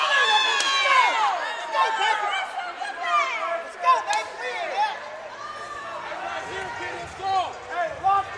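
A cornhole tournament crowd at a finals match in Mesquite, Texas, chattering, whooping and cheering in repeated bursts, with excited voices rising and falling throughout.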